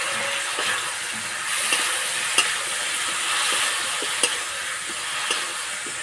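Whisked sour yogurt goes into spiced potatoes in a hot pan and gets stirred, a steady sizzle and hiss running throughout with intermittent scraping strokes of the spoon, no talking.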